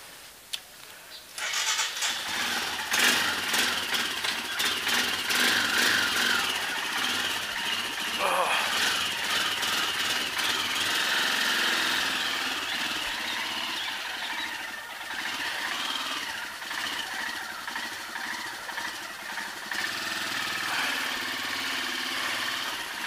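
A motorcycle engine runs through most of the stretch on a group ride day in Anantnag, Kashmir, starting up after a short quiet and then holding a steady close rumble with some revving, while people talk nearby.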